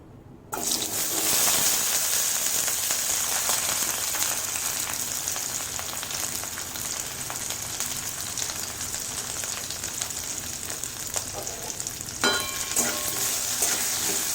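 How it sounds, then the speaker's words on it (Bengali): Potatoes fry in a pan with salt and turmeric, a steady bright sizzle and crackle with occasional stirring scrapes, continuing evenly throughout after a brief silent start. "নুন হলুদ দিয়ে আলুটা ভেজে নিই"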